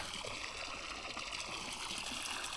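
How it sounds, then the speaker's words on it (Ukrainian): A small outdoor stream trickles and gurgles quietly in an even, continuous wash of water with no voices over it. "Бачите, вода щось там трішки біжить."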